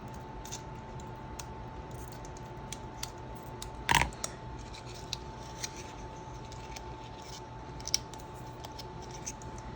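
Scissors trim craft material for a faux book box apothecary vignette, with one distinct close snip and faint small clicks and rustles around it in a quiet room.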